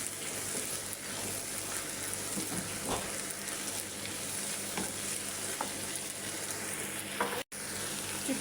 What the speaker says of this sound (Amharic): እዚህ ጋር ሽንኩርት አፍሮት ጨምሬያለሁ።